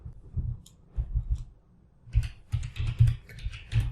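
Typing on a computer keyboard to start a Python shell on a Windows PC: a few short bursts of close key clicks, separated by brief pauses, with no talking.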